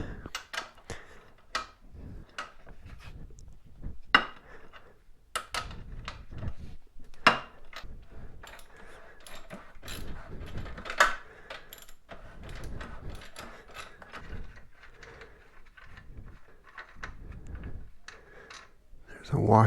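A rear axle nut on a Yamaha MT-03 motorcycle is worked loose with a wrench while a 19 mm axle head is held, giving scattered metallic clicks, clanks and tool knocks at close range, with a person talking in between.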